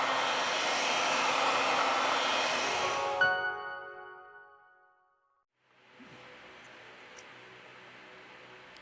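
A heat gun blows with a loud, even airy roar on a Huawei Y9 2019 phone screen, then switches off and fades to silence before a fainter hiss of airflow resumes.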